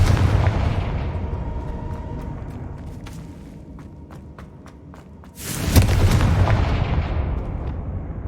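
The Confringo fire spell bursts in Hogwarts Legacy with a sudden loud explosive boom midway through, following a stretch of quieter ambient game sound and light impact clicks, then a rumbling tail.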